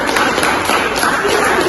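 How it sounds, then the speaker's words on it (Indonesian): Students in a classroom clap their hands together in a brief, dense burst of fairly close applause with no talking. "beri tepuk tangan untuk teman-teman."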